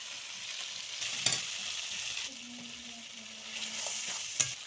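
A chili and cumin paste hits onion, ginger and garlic already frying in a pan for a Bengali jackfruit and prawn curry, giving a soft, steady sizzle with a few brief stirring scrapes.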